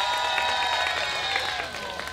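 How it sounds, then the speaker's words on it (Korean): An audience at a youth dance contest during the Taehwa River National Garden spring flower festival claps and cheers steadily, a dense crowd wash with music tones running underneath. "큰 박수 부탁드리겠습니다."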